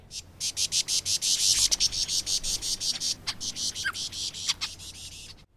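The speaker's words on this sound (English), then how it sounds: "song D tends to be much longer than the other songs and it tends to be quite buzzy." A lyrebird gives a long, buzzy song, a steady train of rapid, pulsing bursts repeated about four times a second, loud and close, fading at the end.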